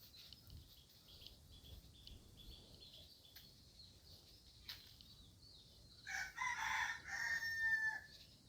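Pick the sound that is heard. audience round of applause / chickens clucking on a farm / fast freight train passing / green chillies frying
chickens clucking on a farm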